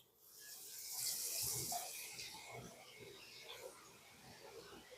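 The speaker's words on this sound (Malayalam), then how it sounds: "ഇനി നമുക്ക് കരണ്ടി കൊണ്ട് തന്നെ ഇങ്ങനെ ഒഴിച്ചു കൊടുക്കാം" Laddu batter ladled out in a soft, liquid pour, a faint wet hiss that swells and then tapers off into light bubbling, with no voices.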